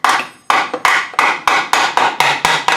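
A hammer taps a part while a gearbox is being stripped down, giving about nine sharp, ringing metallic blows at a fairly even pace, close and loud, with no talking.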